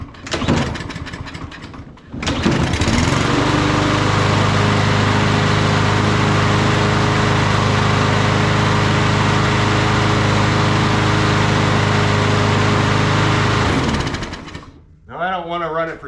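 A repaired lawn mower engine starts after a short pull and runs steadily at a loud, even idle for about eleven seconds, then cuts off, with brief talk at the end.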